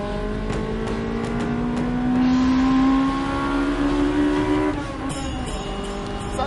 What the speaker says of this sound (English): we'll go for a spin in Jay Leno's Honda Scream Machine